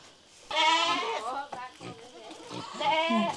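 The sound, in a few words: goats bleating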